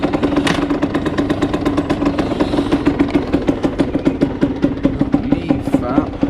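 A Derbi Senda 50cc two-stroke motorcycle engine runs on choke close by, putting out a fast, rattly, pulsing idle that stays loud and even throughout, with occasional voices underneath.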